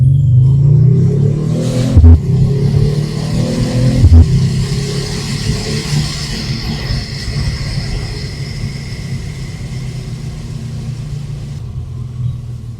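A Mercedes-Benz CLE53 AMG sports coupe accelerating in Sport Plus mode, a loud, deep engine and exhaust rumble building steadily, with a couple of sharp bursts early on, heard from inside the car with no talk.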